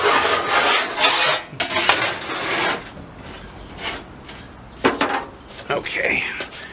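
Metal piece being cut for the door repair on a 1965 Chevy G10, heard as rough rasping strokes in bursts with pauses between, close and fairly loud.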